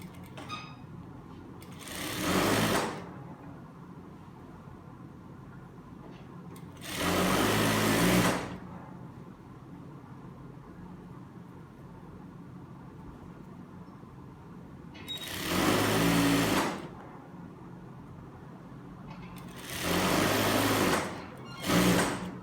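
A sewing machine stitching size 42/44 elastic-waist trousers with pockets, running in four separate bursts of rapid whirring stitches of about one to two seconds each, with quiet pauses between them.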